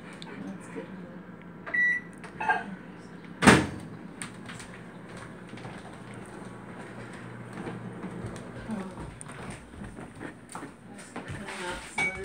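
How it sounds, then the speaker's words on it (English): A microwave oven hums steadily in a kitchen while people talk nearby, punctuated by a few clunks and one loud bang of a door or dish. "Hurry up, microwave."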